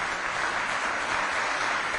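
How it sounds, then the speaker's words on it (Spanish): A church congregation claps at a Spanish-language sermon, giving a dense, steady patter of applause that fills the space evenly from start to finish without a voice on top. "Dele un aplauso bien fuerte al Señor"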